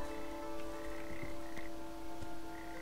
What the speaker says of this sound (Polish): O nie, żaby. Żaby to zło.